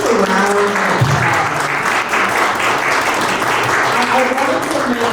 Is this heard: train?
no